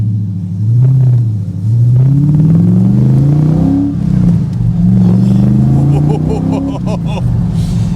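A deep V8 engine of a 1992 TVR V8S sports car rumbles and revs up and down in loud, rising sweeps close by, with a clattering burst near the end.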